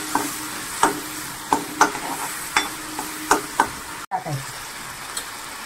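Onion sizzling in hot oil in a pan for green masala prawns, a steady frying hiss broken by about nine sharp knocks and stirring scrapes of a spoon against the pan.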